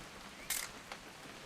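A camera snaps a picture in the video game What Remains of Edith Finch: one sharp shutter click, followed a moment later by a softer mechanical tick, over a quiet background.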